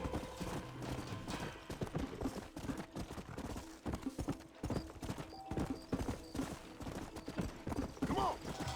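Rapid clip-clop of galloping horse hooves in the video game Red Dead Redemption runs continuously and fairly loud, with a horse whinny near the end and faint voices beneath.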